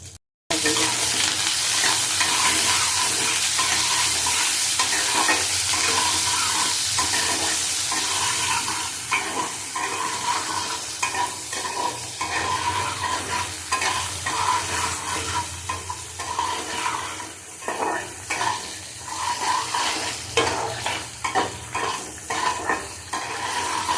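Hog plum chutney being stirred in a frying pan, with a steady sizzle running underneath and a continuous series of scraping, clinking strokes of the spoon against the pan, close and fairly loud.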